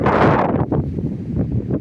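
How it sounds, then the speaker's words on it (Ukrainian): Loud wind noise rumbles and blusters against the microphone outdoors in an open-ground vegetable garden, a heavy gust at first then steadier buffeting. "У нас вітер шумно."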